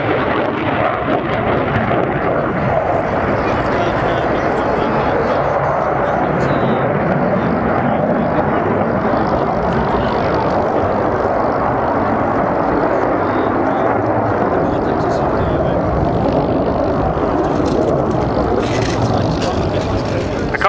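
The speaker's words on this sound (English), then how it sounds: "An aileron roll as he comes towards us now." A military jet flies a low rolling display at an RAF air show, its steady, loud engine roar filling the whole stretch without a break while it passes close by.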